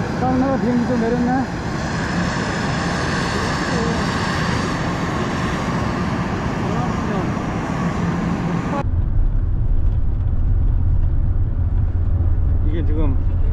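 A domestic Uzbek passenger airplane bound for Urgench roars with a loud, steady engine noise, then abruptly drops to a deeper, muffled rumble that continues to the end.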